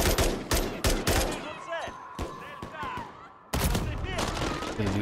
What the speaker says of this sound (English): I don't even know where I'm getting shot from